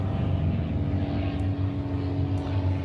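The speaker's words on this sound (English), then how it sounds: "Excuse while the airplane goes over." An airplane passes overhead with a continuous low droning engine rumble that holds steady and fairly loud, with no talk over it.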